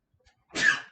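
A person sneezes once during a clinical examination, a single sharp, fairly close burst lasting about half a second after a brief inhale in otherwise quiet surroundings.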